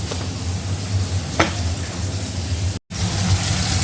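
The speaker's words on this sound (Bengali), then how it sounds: "এখানে মাছ ভাজা হচ্ছে" Fish sizzling in a pan gives a steady broadband hiss with low hum, one brief scrape near the middle and a sudden cut to silence before the sizzle resumes.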